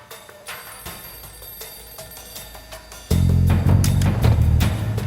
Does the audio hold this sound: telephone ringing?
yes